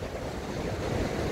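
Steady broadband wash of surf breaking on a flat beach along the Great Ocean Road, Australia, with wind buffeting the microphone throughout; no voices.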